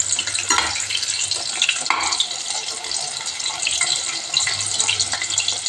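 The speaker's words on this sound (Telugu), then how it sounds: "ఇవి బాగా ఫ్రై అవ్వాలండి" Chicken pieces frying in a pan, a close, continuous sizzle and crackle with occasional stirring scrapes and soft clatters.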